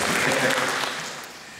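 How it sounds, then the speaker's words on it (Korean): An audience at a film screening talk applauds with a brief, full burst of clapping that fades over about a second and a half. "네, 다시 한번 여기서 박수."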